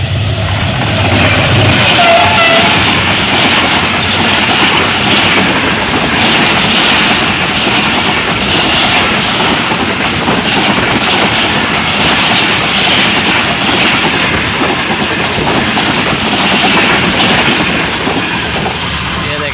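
Zakaria Express passenger train arriving at Multan, a loud, steady broadband rumble of rolling wagons and engine noise sustained throughout, close by with no talk.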